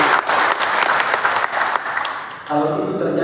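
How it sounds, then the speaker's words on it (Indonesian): A crowd applauds at an anniversary celebration in Papua, a dense burst of clapping that fades as a voice resumes speaking. "Berikan tepuk tangan."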